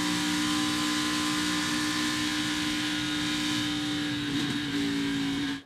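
An ARCA stock car engine at full throttle on the Michigan racetrack, a loud, sustained, close-up roar with steady harmonic drone and slight pitch wavering as the car powers into a corner, ending abruptly.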